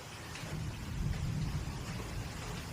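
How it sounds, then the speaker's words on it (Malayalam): Steady rain pours down with a low rumble beneath it, a continuous wash of sound with no voices. "രസമോള് വന്ന് മഴ കാണാനിരിക്കുവാണ്ടല്ലേ"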